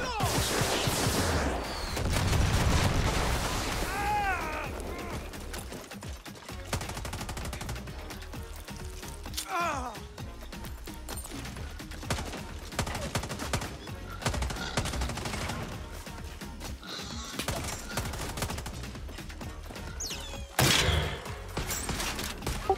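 Gunfire in Far Cry 6 aimed at a fleeing mongoose, scattered shots and short bursts spread across a long stretch among game effects and creaks, fairly loud and close, with occasional brief talk.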